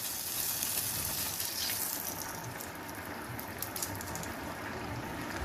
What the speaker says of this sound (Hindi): जला हुआ बटर और हरी मिर्चों का ये तड़का इसके ऊपर चला गया